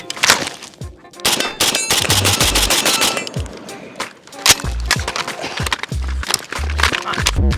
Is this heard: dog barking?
no